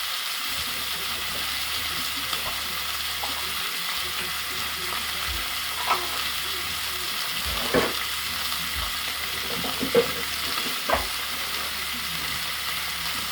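Three steaks searing in a hot pan, a constant close sizzle and crackle with intermittent louder spits and pops as the meat sits on its edges.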